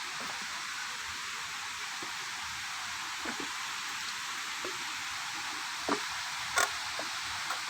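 Samrong Kiat waterfall, also known as the Devil Waterfall, pours as a steady, hissing broadband roar, with a few brief knocks and clicks rising above the constant rush.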